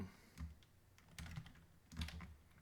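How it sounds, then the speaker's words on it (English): Rapid keystrokes on a computer keyboard during a Haskell coding session, arriving in three close, crisp bursts of clattering taps separated by short pauses, with no voices. "I'm typing keys and nothing's happening for a second or so"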